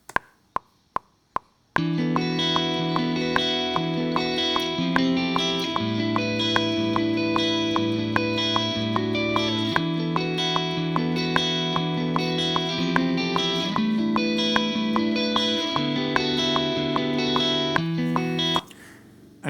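Four sharp plucked hits, then a sustained wash of layered, effected electric guitar chords ringing together with steady rhythmic accents, ending abruptly.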